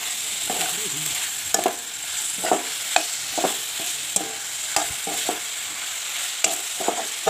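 Chicken meat cooks in a pan with spices, giving a steady hiss of frying beneath repeated scraping strokes of a spatula being stirred, close and clear with no voices.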